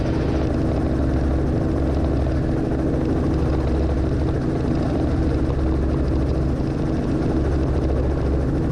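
Heartland Helicopters training helicopter flying near gross weight with three people aboard and light fuel, its rotor and engine drone loud and steady throughout, heard from inside the cabin.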